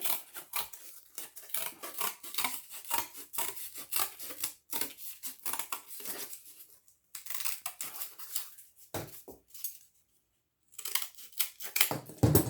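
Scissors cutting out a pattern piece for a homemade Fortnite loot llama saddlebag, giving close, continuous snipping and rustling with a brief pause midway before the cutting resumes.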